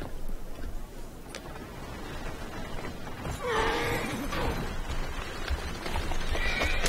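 Horse-drawn carriage in Assassin's Creed Syndicate: steady clip-clop of hooves and rolling wheels, with a horse whinnying loudly midway and again near the end, no talking.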